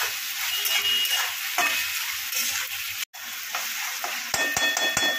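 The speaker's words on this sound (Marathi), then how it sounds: "तर सगळा मसाला व्यवस्थित आपण फ्राय करून घेऊया।" Masala with green chili and coriander sizzles and fries in a pan for a paneer bhurji, a continuous crackling hiss broken by stirring scrapes and a few sharp clinks, with no voices.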